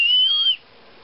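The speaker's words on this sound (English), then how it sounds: "these are old bird whistles" An old hand-painted bird whistle blown once, giving a loud, clear, sustained high whistle with a slight warble that stops abruptly after about half a second.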